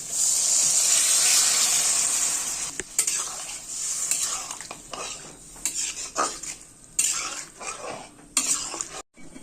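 Broth poured into a pan of spiced curry and stirred, with a loud pouring rush at first, then sizzling, spoon scrapes and metal clinks against the pan.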